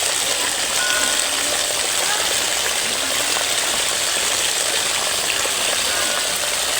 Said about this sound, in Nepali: खै 2टा धारामा पानी आएर हिँड्छ